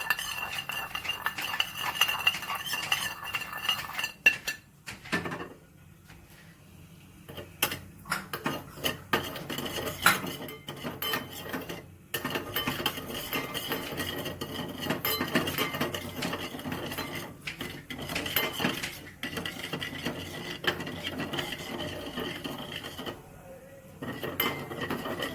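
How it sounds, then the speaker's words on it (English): Ghee and salt stirred together in a pot, with metallic scraping and clinking of a utensil against the pot in irregular bursts and short pauses, close and fairly faint. "You blend the ghee and the salt together, and then you put it on the burner and heat it and make it piping hot."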